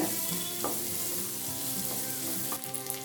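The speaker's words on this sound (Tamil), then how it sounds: "புதினாவை இந்த அளவு வதக்கினா போதுங்க, ரொம்ப வதக்கணும்னு அவசியம் இல்லை." Mint leaves sautéing in a pan for a small-onion mint chutney, a continuous soft sizzle with a few scraping stirs, close and steady with no voices.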